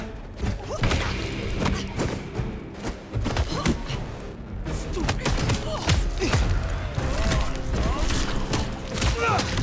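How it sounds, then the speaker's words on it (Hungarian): Rapid, dense gunfire and thuds in the video game Vampire the Masquerade Bloodlines 2, with irregular bursts of shots running throughout, mixed with game noise and some speech. "Ezek aztán nagyon lövöldöznek."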